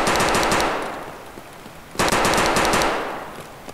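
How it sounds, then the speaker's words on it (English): Automatic gunfire in the shooter game Escape From Tarkov rattles out in two sustained bursts separated by a brief lull, loud, dense and close, with no speech over it. "I just heard gunshots near me."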